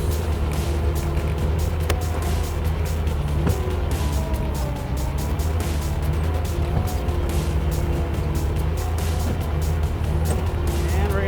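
Terex skid steer loader running a box slalom, its engine droning steadily and loudly throughout with tonal hum and clatter as the machine turns, no talk over it.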